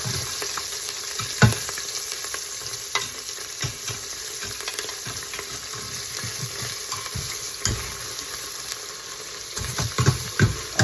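Garlic cloves and ginger frying in a pan while a potato masher presses and pushes them, a steady sizzle broken by repeated dull thumps and scrapes, no talking.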